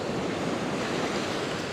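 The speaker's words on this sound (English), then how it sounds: "That water flow just coming off the rocks on the left hand side" Sea water washing off shoreline rocks with steady surf on an early golden morning, a dense continuous rushing wash with light wind buffeting, close and even in level, no voices.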